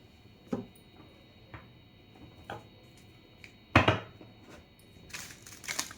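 A brand-new tarot card deck being shuffled: scattered light card taps, then a sharper riffle burst midway and a denser flurry of shuffling near the end, close by with no talking.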